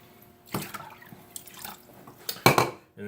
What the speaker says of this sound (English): Add another 2 cups of water.